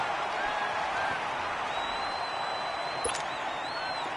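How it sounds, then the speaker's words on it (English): Crowd noise fills a domed stadium during a PS4 American football game: a steady, broad roar holds evenly throughout, with a faint whistling tone drifting above it and a brief sharp tick near the end. "The crowd here in the Dome making things difficult."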